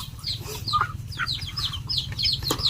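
A few chickens cluck and squawk close by in short, repeated calls over a low, steady background hum, with no one talking.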